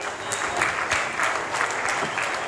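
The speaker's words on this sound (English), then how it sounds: "give him another round of applause" An audience applauds at a New Zealand shearing championship, dense sustained clapping from a crowd with a few sharper individual claps standing out, steady throughout.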